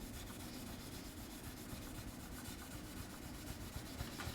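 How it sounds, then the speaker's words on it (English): Towel soaked in lemon oil rubbing along an Epiphone guitar fretboard, a faint, continuous close-up scrubbing texture with no voices. "I just douse a towel with it, wipe it on."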